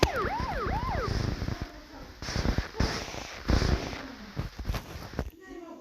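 A wailing ambulance siren in Minecraft sweeps up and down briefly at the start, then gives way to clattering, thumping game sounds.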